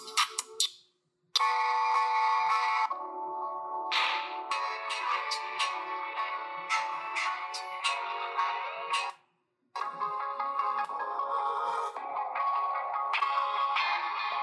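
Song playing through the single bottom speaker of a ZTE Blade V40 Pro phone, thin and bright with no low end, with two brief silent gaps as the track is skipped forward.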